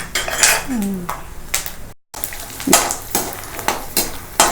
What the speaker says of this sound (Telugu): లో ఫ్లేమ్లో వేరుశనగ గుళ్ళు మాడకుండా కలుపుకుంటూ ఫ్రై చేసుకోవాలి.